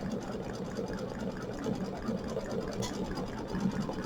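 Embroidery machine stitching a satin stitch outline on a hooped design, a steady continuous whirring hum with a fast needle rhythm running throughout at moderate level.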